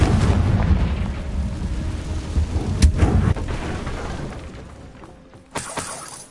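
Rumbling explosion of the fiery Confringo spell in Hogwarts Legacy, a loud deep blast that slowly fades, followed by a sharper crackling burst near the end, with no talking.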